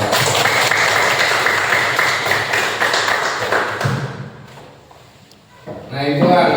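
Classroom applause for a student discussion group, dense clapping that fades out over several seconds to near quiet before a voice resumes speaking.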